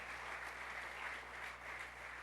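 Church congregation applauding during a Sunday service, a steady unbroken wash of clapping held at an even level throughout, with no voices over it.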